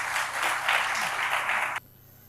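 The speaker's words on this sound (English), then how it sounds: "Please welcome them with a round of applause" Audience applauding as guests are welcomed onto the stage at an education event, a brief burst of many hands clapping that cuts off abruptly to quiet.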